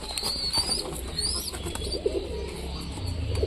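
A father pigeon feeds its chick nearby, with soft cooing, faint squeaky calls and light rustling of wings over a low background hum.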